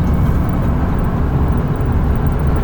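A 2004 Ford Econoline E-350 SD XLT wheelchair van speeds up on a highway, its engine and road roar forming a loud, steady, low rumble heard from inside the cabin, with no talking.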